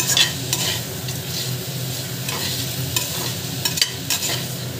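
Biryani masala being stirred and sautéed in a pressure cooker, a spoon scraping in repeated strokes over a low steady sizzle, close and fairly soft, with no talking.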